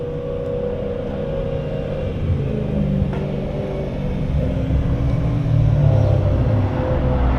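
A car engine rumbles steadily with low, throaty revving that grows slightly louder toward the end, heard at a car meet where a Nissan GTR is present.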